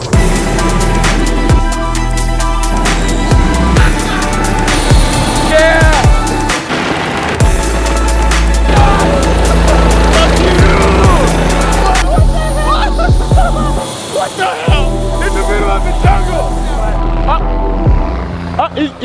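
Loud, steady helicopter rotor drone with a heavy low throb filling the whole stretch, wind buffeting over it and occasional voices faintly underneath, in a jungle.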